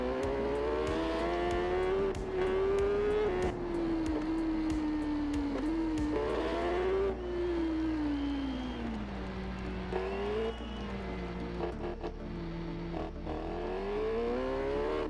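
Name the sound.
motorcycle engine in video game TT Isle of Man 3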